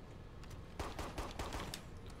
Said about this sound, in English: with the sniper rifle with the shot!